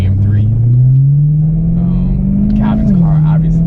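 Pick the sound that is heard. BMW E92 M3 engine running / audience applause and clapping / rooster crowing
BMW E92 M3 engine running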